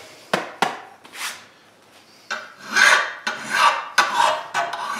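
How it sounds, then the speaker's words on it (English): A hand file rasps across a steel tomahawk head in a series of sharp strokes, a few quick scrapes followed by longer, louder grinding passes close up. "I like to wear gloves too when I'm filing"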